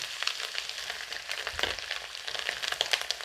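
Dried coconut frying in hot oil in a pan, giving a steady crackling sizzle with scattered pops and brief stirring sounds, fairly close and with no voices.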